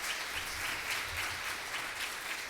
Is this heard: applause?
yes